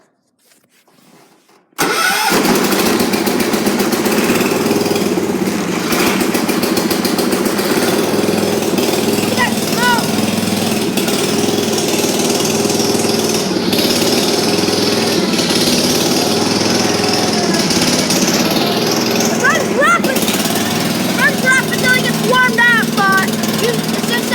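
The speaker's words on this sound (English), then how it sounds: "Choke it, put the throttle down, give it a little less throttle." Small engine of a 314 cold-starting after choke and throttle are set, catching abruptly and then running with a loud, steady, rough idle close by for over twenty seconds.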